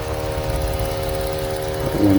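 A 12V two-cylinder portable 11.65 CFM heavy-duty air compressor runs with a steady, close mechanical hum and rapid piston pulsing, continuous throughout the short stretch.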